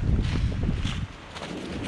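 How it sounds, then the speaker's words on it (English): Strong wind of about 25 to 30 miles an hour roars and buffets the microphone in a steady low rumble, loud and continuous with no voices. "that wind's probably blowing 25, 30 miles an hour"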